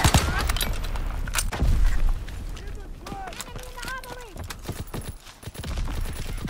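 In the Call of Duty WWII video game, a heavy blast and scattered gunshots crack amid battlefield noise, with shouted voices of soldiers over the fighting.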